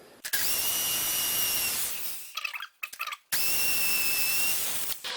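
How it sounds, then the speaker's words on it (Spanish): A loud, steady hammer-drill whine drills into a concrete wall or pillar, running continuously, breaking off briefly with a few short bursts, then resuming at full strength. "Vamos a poner el percutor."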